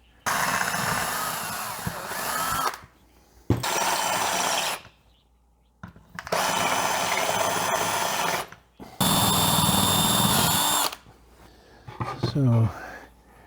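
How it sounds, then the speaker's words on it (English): A power drill whirs in several bursts of a couple of seconds each, drilling holes in a shelf for a camper van conversion, with pauses between and a short rattling burst at the end. "we'll drill the holes in that."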